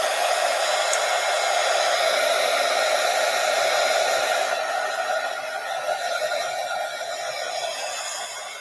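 A hair dryer dries a handmade artist trading card, blowing as a loud, steady whoosh with no break for the whole stretch and easing slightly toward the end. No one speaks.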